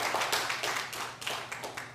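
A church congregation applauds mothers during a Sunday service, a steady, moderately loud run of overlapping hand claps with no talk over them.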